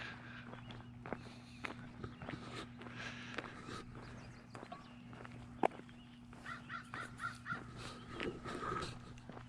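Harsh caws from a crow perched atop a tree ring out across a Saskatchewan town, mixed with footsteps on a walk and a constant low mechanical hum nearby.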